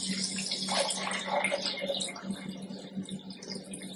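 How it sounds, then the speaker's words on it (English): Tap water runs into an empty pot to cover a batch of mixed dried beans for soup, a close, steady splashing and gurgling that fluctuates slightly as the level rises, heard alone. "I'm going to cover them with water."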